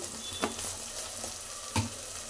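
Onion mixture with turmeric powder frying in a pan, a steady soft sizzle with two brief louder scraping stirs, close and without voices.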